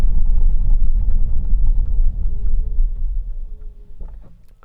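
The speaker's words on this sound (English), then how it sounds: "I'm going to brake." A Chery Tiggo 8 SUV slowing under braking in town traffic at around 20, heard from inside the cabin as a steady low road and engine rumble that gradually fades as the car comes to a stop.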